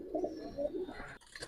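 Pigeons coo softly nearby in a short burst of low, rounded calls, followed by a faint rustle at the end.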